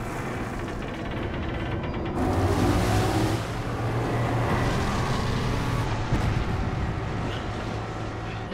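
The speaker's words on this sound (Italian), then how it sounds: "Accendiamo il motoscafo." Motorboat engine in Resident Evil 5 starts up with a sudden loud surge and settles into a steady droning roar, mixed with splashing and game effects.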